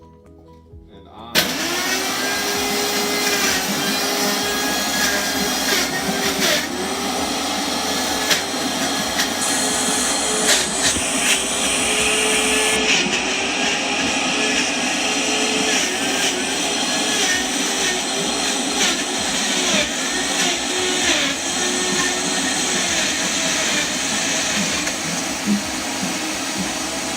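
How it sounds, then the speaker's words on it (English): Kitchen blender switched to high for a breakfast blend, kicking in after a second and running loud and steady as a dense whining motor roar to the end, with faint talk under it. "And then you just gotta hit high on the blender"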